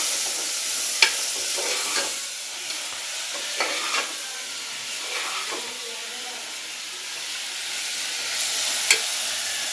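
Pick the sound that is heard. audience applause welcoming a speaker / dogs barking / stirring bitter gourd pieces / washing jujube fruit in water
stirring bitter gourd pieces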